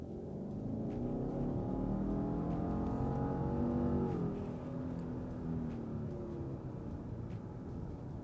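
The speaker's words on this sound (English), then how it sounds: "once you hit the gas, it takes a second, but once it gets going, it'll go" A turbocharged 2.4-liter 2024 Subaru Outback Touring XT accelerates from inside the cabin, its steady engine drone climbing in pitch over several seconds before easing slightly, with continuous road and wind rumble beneath.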